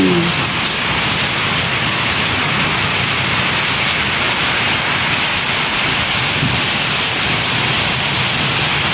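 Rain pours steadily onto a damaged house roof, a dense, loud, unbroken hiss with no voices.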